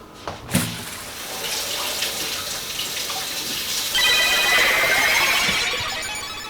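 Tap water runs steadily over a sharp rainbow kitchen knife blade held under a faucet while preparing vegetables for soup, a continuous close splashing hiss that grows fuller partway through.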